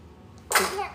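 A single short, sharp sneeze bursts out close by over a quiet background.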